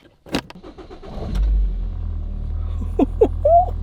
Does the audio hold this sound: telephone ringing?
no